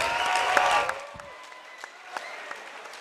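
An audience applauds after a boxing bout at a fight night, a brief burst of clapping that quickly thins into scattered, fading claps over a quiet hall background.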